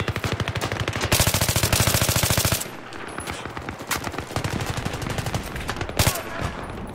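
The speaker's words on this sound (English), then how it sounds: "I'm just hip firing at this close range right here." Rapid automatic AEK assault rifle bursts fired from the hip at close range in a Battlefield 3 team deathmatch on Noshahr Canals, loud sustained rattling fire, a pause, then further shorter bursts and a sharp shot.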